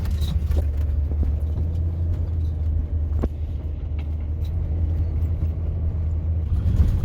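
A car creeps slowly downhill in low gear past an extinct volcano, giving a steady low engine rumble throughout with a few faint clicks and knocks and no talking.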